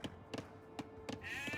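Sheep in Age of Empires 2 bleat a few times in short game bleats, spaced between soft thunks and taps, with a brief tonal chime near the end.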